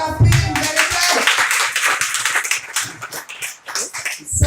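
Audience clapping at a school storytelling festival, a burst of hand claps that runs for a few seconds under a voice, moderately loud and close.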